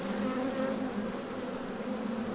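Honey bees hum in a steady, dense drone from an opened hive during an inspection, close and continuous with no break.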